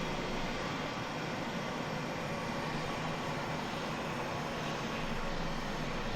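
Engines of an RAF C-17 Globemaster heard from inside the cabin give a steady, loud, unbroken roar that holds at an even level from start to finish.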